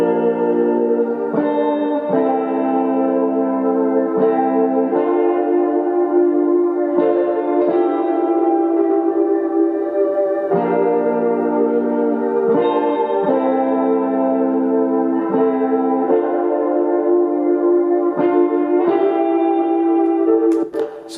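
Electric guitar strums full, sustained chords through effects processing with echo and reverb, a steady, loud harmonic wash that changes chord every couple of seconds with no voices.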